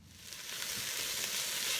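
Onions sautéing in a Ninja Foodi for cowboy beans make a soft, even sizzle that holds steady and faintly swells over a brief moment.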